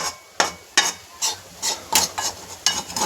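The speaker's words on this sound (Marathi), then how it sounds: "मिक्स करून घेत आहोत" A spoon stirs grated sweet potato (ratalyacha kis) in a pan, scraping in about eight distinct, crisp strokes at a steady rhythm, close and fairly loud, with no voices.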